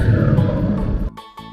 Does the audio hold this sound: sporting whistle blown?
no